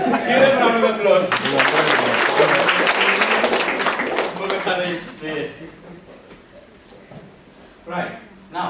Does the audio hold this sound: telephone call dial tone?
no